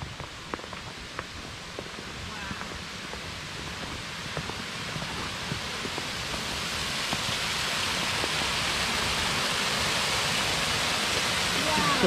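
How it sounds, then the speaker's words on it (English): Waterfall heard from a short distance while hiking toward it, a steady broadband roar that slowly grows louder, with scattered footsteps and rustling close by and no talking. "We can hear the waterfall"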